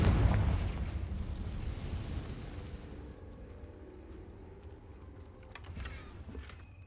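A Confringo blast spell fired in Hogwarts Legacy opens with a loud, deep booming burst. The explosion then fades into a low rumble, and a few faint clicks follow.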